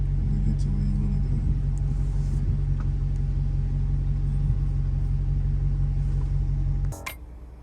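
Inside a moving Maserati GranTurismo, a steady low engine and road rumble fills the cabin at an even level, then cuts off abruptly near the end.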